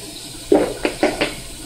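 A kitchen tap runs as a can of black olives is rinsed out, giving a low watery wash and then three or four sharp splashy knocks of water against the metal can, close and fairly loud.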